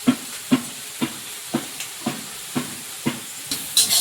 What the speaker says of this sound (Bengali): মশলাটা একটু নেড়ে চেড়ে ভালো করে কষিয়ে নেব